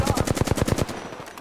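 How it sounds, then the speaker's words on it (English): Automatic gunfire in the video game Apex Legends, a rapid burst of about eight evenly spaced loud shots that stops abruptly and leaves a short fading tail. "They're shooting at me. We're shooting."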